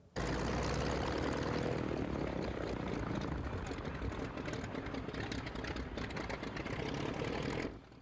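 A Travel Air two-seater propeller airplane in flight at about 1,000 feet, its engine and propeller making a loud, steady, broadband roar that holds constant from start to finish, heard from inside the open front seat.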